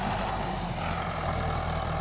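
A Mahindra 575 MKM tractor, its diesel engine tuned up to run at 3000 RPM, drones steadily at close range, a continuous rumble with no talk over it.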